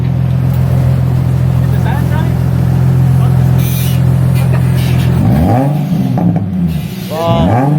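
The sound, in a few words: car engine revving with custom exhaust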